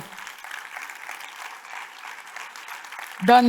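A conference audience at a plenary session gives a soft, steady patter of applause for a speaker, and a voice breaks in near the end.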